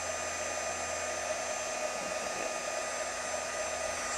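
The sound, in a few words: heat tool melting embossing powder on a card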